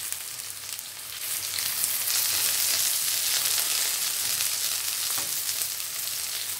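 Satay meat sizzling on a grill as the pieces are turned with tongs, a loud, continuous frying hiss with occasional small crackles and no talk.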